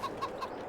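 Chickens in the farming video game F4RMH4RD give three quick, soft clucks in an even rhythm, faint and close, with no voices over them.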